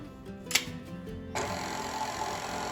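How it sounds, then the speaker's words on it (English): A stand mixer works hard through stiff macaroon dough, its motor droning steadily with a rhythmic ticking, then surging into a louder, brighter whir partway through, close and continuous without talk. "the mixer is working a little bit harder"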